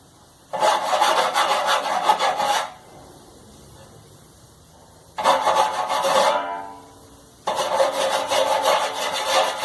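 A Brastemp clothes dryer makes a harsh scraping, rasping noise in three loud bursts separated by quieter pauses, with no speech.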